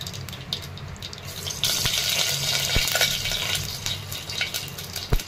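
Mustard seeds hit hot oil in a pressure cooker for mung dal masala rice; the hiss swells partway through into a busier sizzle with scattered sharp pops and crackles.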